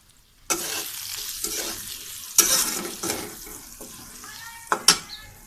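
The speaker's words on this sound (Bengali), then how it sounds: "এবার এটা আমি কষাবো।" Chili powder and spices sauté in oil for a rui fish curry with potatoes and flat beans, giving a steady close sizzle with stirring scrapes and two sharper utensil clinks.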